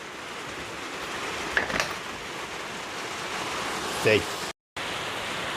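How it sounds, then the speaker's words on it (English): Heavy rain pours down outdoors as a dense, steady hiss, with brief knocks and a short voice over it. "the rain's really starting to come down"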